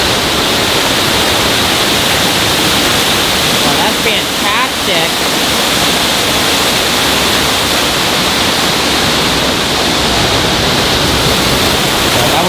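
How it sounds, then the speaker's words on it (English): Waterfall at the Madagascar habitat of the San Diego Zoo, a steady loud broadband rush of falling water heard up close and continuous, with a brief exclaimed remark partway through. "Go behind the waterfall here."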